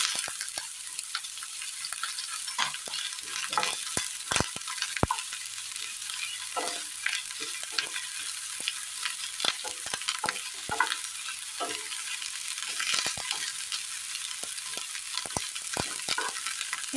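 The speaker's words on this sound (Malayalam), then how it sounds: "അല്പം വെളിച്ചെണ്ണ ഒഴിച്ചു കൊടുക്കാം. എണ്ണയിലേക്ക് അരിഞ്ഞു വെച്ചിരിക്കുന്ന സബോള ചേർത്ത് കൊടുക്കാം" Chopped onions frying in coconut oil in a pan give a steady broadband sizzle, with frequent stirring scrapes and clicks throughout, close and continuous with no talking.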